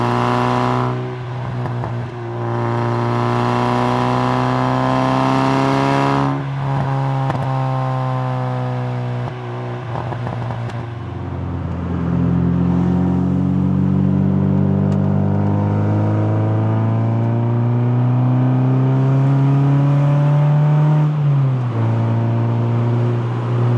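Mazda MX-5 NB with a 4-inch Malian backbox exhaust revs loudly up close, a deep rumbling idle climbing to sustained high revs, dropping back, then rising again in long steady pulls with no one speaking.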